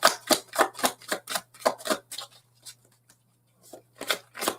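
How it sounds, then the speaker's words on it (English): Tarot cards being shuffled by hand, a quick run of crisp riffling bursts close up, then a short pause and a few more shuffles near the end against a quiet room hum. "I'm shuffling the cards."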